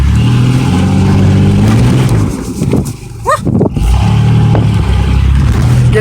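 A truck engine revs and accelerates loudly up close, its steady roar dipping briefly mid-way before building back to full drone; a voice is heard faintly.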